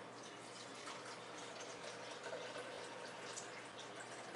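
Tap water running steadily into a container, about 10 ounces poured to mix a meal-replacement shake; a continuous, fairly quiet splashing stream with no talk.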